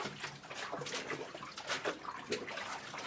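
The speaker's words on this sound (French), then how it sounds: "les eaux actuellement, là, ce qui coule là, c'est surtout les eaux de source" Spring water flowing through an old underground channel that carries a captured stream, a steady broadband rush and splash heard close by with no talk.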